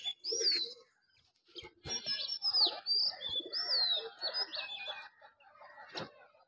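A male racing pigeon from a racing club coos and calls near the microphone in short bursts, with brief pauses and soft bird chirps between, and no talk.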